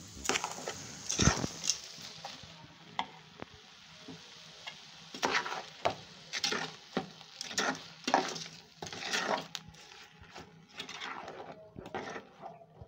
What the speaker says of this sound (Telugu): ఇప్పుడు బాగా మనం మిక్స్ చేసుకుందాం.